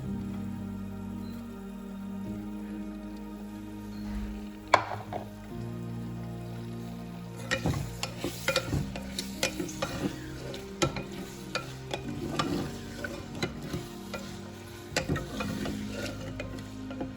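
Onions and garlic frying in a clay pot on an electric stove, stirred with repeated scraping strokes over a steady low sizzle that grows busier in the second half.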